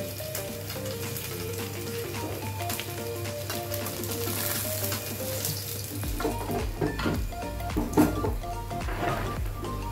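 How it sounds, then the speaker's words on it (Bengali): Fish frying in oil until reddish-brown, a continuous close crackling sizzle with scattered pops and clinks of a utensil against the pan, rising slightly in intensity toward the end, with no voices. "মাছগুলো আমার লাল লাল করে ভাজা হয়ে গেছে।"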